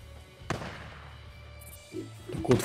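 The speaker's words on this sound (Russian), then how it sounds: "еще где-то кто-то стреляет где-то" Distant gunfire in the video game Days Gone: a single sharp far-off report near the start and a few dull thuds toward the end, faint over low steady game ambience with no talk.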